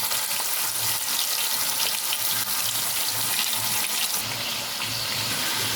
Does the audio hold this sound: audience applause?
no